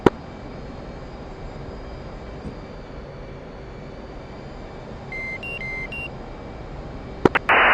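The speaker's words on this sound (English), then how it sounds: "flight of 2 F-18s is in base to final runway 28" Steady, droning jet engine hum from a pair of F/A-18 jets in a flight simulator game, with a few cockpit beeps near the end and a couple of sharp clicks.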